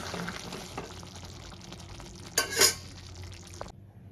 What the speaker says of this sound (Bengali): এবার আমি বন্ধ করে দেবো আর একটা প্লেটে ঢেলে দেবো।